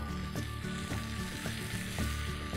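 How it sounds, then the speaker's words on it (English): Eggplant sizzles and fries in a hot pan for an Indo-Chinese eggplant, potato and pepper stir fry, a steady close crackling hiss with a few soft stirring pulses and no talk. "Next, I'm going to add the eggplant."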